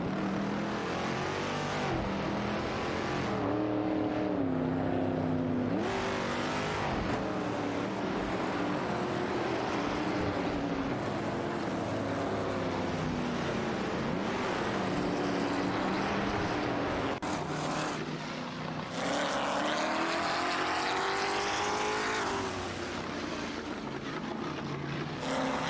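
Race cars including Chevrolet Corvette C3s and a Dodge Challenger R/T in a racing video game, engines roaring loud and continuous with rising and falling revs as several cars jostle close together.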